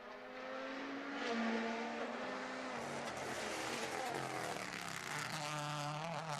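A WRC rally car at speed during Rally Japan 2022, its engine roaring continuously with shifting revs across the whole stretch, loud and close, with a brief voice faintly under it.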